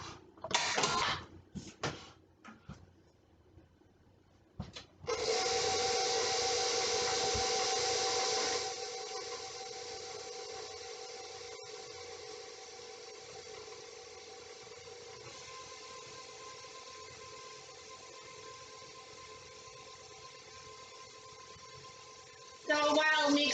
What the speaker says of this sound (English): now we will mix all of this for about 2 minutes